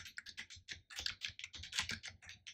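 Rapid, close clicking of a Mac computer keyboard as a password is typed, with quiet, evenly spaced keystrokes in a steady burst.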